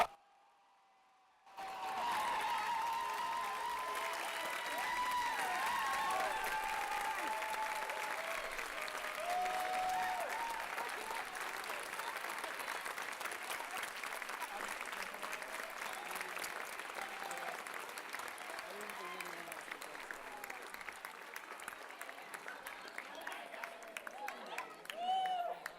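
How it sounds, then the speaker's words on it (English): An audience bursts into sustained applause for a graduating staff member after a brief silence, the dense clapping holding steady for over twenty seconds before slowly thinning, with no voices. "So if you all can give her a round of applause."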